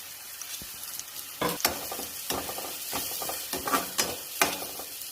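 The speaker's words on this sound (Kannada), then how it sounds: "ಚೆನ್ನಾಗಿ ಎಣ್ಣೆಯಲ್ಲಿ ಹುರ್ಕೋಬೇಕು." Grated coconut powder frying in oil in a pan alongside onions, with a steady sizzle broken by repeated scraping strokes of a spoon stirring through the mixture, close and fairly quiet.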